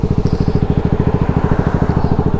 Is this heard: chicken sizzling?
no